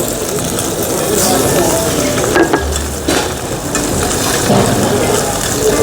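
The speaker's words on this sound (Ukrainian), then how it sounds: "Креветку я одразу обсмажую разом з часником." Shrimp frying with garlic in olive oil in a restaurant kitchen in Odesa gives a loud, continuous sizzle with occasional stirring clacks. Some voices sound faintly underneath.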